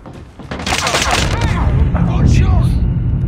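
Rapid bursts of gunfire from a QXR SMG and other weapons in a Call of Duty Mobile match, loud and dense with sharp cracks and booms layered together, under a steady game soundscape.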